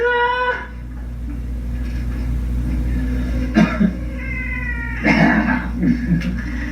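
A cat meows and caterwauls in a few drawn-out, loud cries at the start, middle and end, with coughs and a low steady hum beneath.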